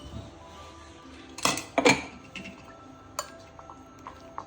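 Uncooked ash gourd pachadi is stirred in a metal pot, giving a few bright clinks and scrapes of the spoon against the pot, clustered together and then a lone tap, over quiet background.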